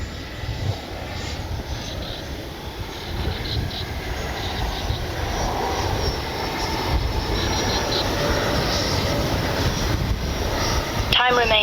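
A FLYFANS L-39 64mm RC model jet with its gear and landing flaps down flies steadily past, a sustained ducted-fan roar and whine that rises and falls slightly, with a brief sharper burst near the end.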